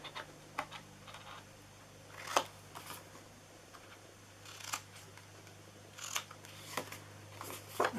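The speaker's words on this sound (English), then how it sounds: "then I am going to cut in on these" Scissors cutting ½-inch pieces off the sides of gift box material for a jewelry box: a series of sharp, close snips and crisp paper rustles spaced irregularly, with quiet pauses between.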